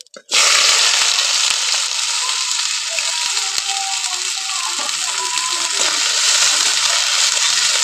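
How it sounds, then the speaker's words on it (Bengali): Two medium chopped onions hit hot oil with cumin, bay leaf and chili, bursting into a loud sizzle after a brief quiet start, then a steady, close frying hiss with faint stirring rattles throughout. "আর দিয়ে দেবো আমি এখানে 2টো পেঁয়াজ, মাঝারি সাইজের পেঁয়াজ কুচিয়ে রেখেছিলাম,"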